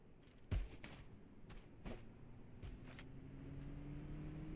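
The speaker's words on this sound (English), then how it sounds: "Oh, it's the car." A car engine in the video game Totally Accurate Battlegrounds, faint and somewhat distant, a low steady drone that slowly rises in pitch, dotted with a few soft thuds and clicks.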